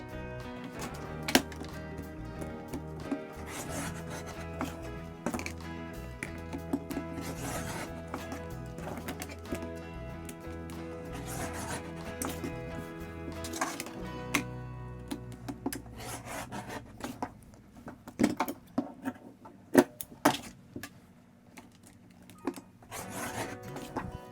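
Scissors cut a cotton t-shirt into 1-inch strips, giving steady close rasping and snipping with a few sharper crunches near the end; no one speaks.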